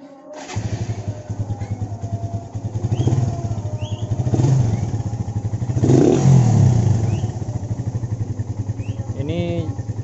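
A Kawasaki KSR motorcycle engine starts and idles with a rapid close putter, revving in short throttle blips after a Helibars throttle is fitted, while someone talks over the engine noise.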